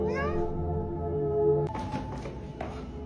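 A cat on a staircase gives a drawn-out, rising meow at close range, its voice clear for about a second and a half, followed by a few soft thumps and taps as it moves.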